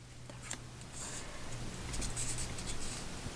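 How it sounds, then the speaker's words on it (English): Paper photo strips folded in half for book art: soft rustling and crinkling of paper with light scraping creases, close and continuous over a few seconds, no talk. "So I'm just going to fold these in half."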